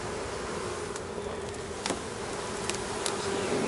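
Honey bees buzz around a hive in a steady, dense drone, with individual insects briefly zipping close past the listener.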